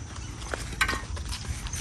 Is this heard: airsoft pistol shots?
no